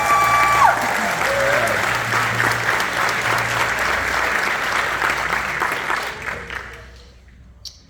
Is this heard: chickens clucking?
no